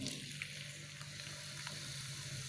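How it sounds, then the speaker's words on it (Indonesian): Hot cooking oil fries steadily in a pan while preparing beef soup, a continuous, even sizzle and crackle close to the listener, with no voices. "Panaskan minyak, kita goreng."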